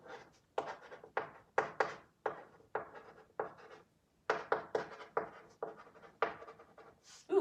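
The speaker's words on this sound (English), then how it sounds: "I'm going to write her name in the middle." Pen or marker writing a name on paper in a bubble map, heard as short scratchy strokes in quick bursts with brief pauses between letters, close and quiet.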